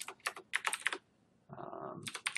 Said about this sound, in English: So pardon my weird keyboard movement.